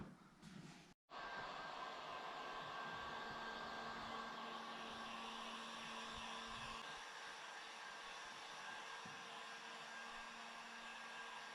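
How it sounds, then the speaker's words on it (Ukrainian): A hair dryer blows with a steady, loud whooshing roar after a brief click, running continuously without pause while heating vinyl film to smooth it. "коли ви проводите феном, вона вже трошечки розглажується, стає більш рівною"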